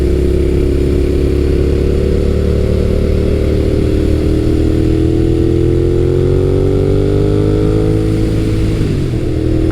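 A 2006 Suzuki SV650 motorcycle engine runs loud and close while riding, a steady throbbing drone whose pitch climbs as it accelerates near the end.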